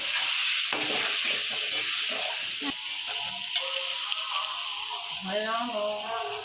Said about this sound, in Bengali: ভাজা পড়লো সে মশলাগুলো একটু কষিয়ে নেব